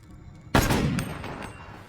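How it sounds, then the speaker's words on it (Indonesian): A single loud gunshot in an action film fires suddenly out of near silence, with a sharp blast and a ringing tail. Smaller echoing cracks follow for about a second. "Miguel menembak mati anak Gomez."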